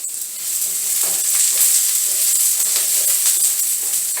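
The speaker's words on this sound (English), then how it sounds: "Add some chopped onion. Got that going. Turn my heat down a little bit." Chopped onion sizzles in a hot pan, a steady bright hiss and crackle that swells after the first moment and carries on evenly, close by with no talking.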